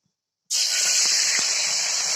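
Loud, steady hiss as liquid batter hits hot oil in a kadai, bursting in abruptly after silence and holding an even sizzle throughout.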